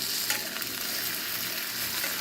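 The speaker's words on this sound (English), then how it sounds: "we're going to stick that thing right in our skillet" Mayo-breaded chicken cutlet sizzling steadily in a hot skillet, a dense, continuous frying hiss with no talk over it.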